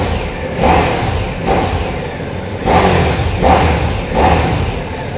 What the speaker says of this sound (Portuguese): é impressionante quando esse motor enche, a sonorização muda, ele cresce de uma maneira impressionante